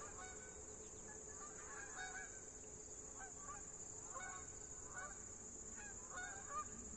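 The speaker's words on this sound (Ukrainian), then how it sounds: "гуси вже, напевно, кучкуються, хоча вони не відлітають, може десь ближче, але чути їхні крики" Geese honk in scattered bursts across a valley, moderately distant, over a steady high insect drone and low background hum.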